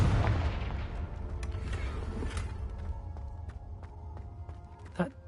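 A Confringo blasting spell goes off in a video game with a heavy boom at the outset, followed by a crackling, rumbling tail and scattered debris-like pops, with a sharper burst near the end.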